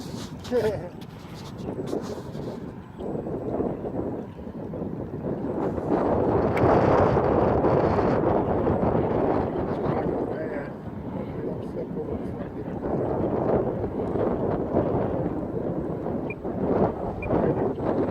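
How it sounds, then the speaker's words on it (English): Strong, gusting wind buffets the microphone at a shoreline where an E-flite Valiant RC floatplane is being flown, a steady broadband roar swelling and easing throughout, with someone talking over it at times. "That is some really stinking wind."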